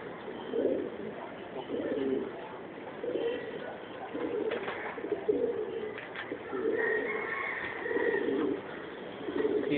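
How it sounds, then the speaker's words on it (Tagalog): A pigeon coos repeatedly nearby in a soft, steady rhythm of low, rounded calls, with faint background noise and no one speaking. "Kalapati yan."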